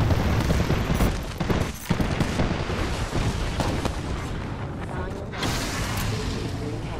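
Knuckle cluster explosions from the video game Fuse make a dense, loud run of blasts and rapid gunfire-like bursts, with mechanical clatter and a voice partly under the din.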